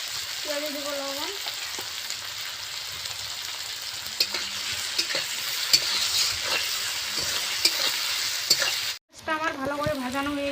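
Chopped onions with salt frying in hot oil in a home kitchen pan, giving a steady soft sizzle with occasional stirring clicks and scrapes, while a voice speaks intermittently over it.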